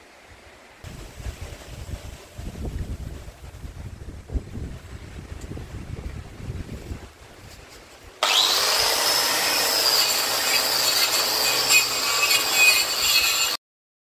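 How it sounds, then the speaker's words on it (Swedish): A rusty steel wheel rim from a Volvo 740 is sanded outdoors in the dark: low scraping and rubbing with wind noise comes first, then a loud, steady, hissing abrasive grind from a power sander. "Nu sätter vi igång och slipar det här lite granna."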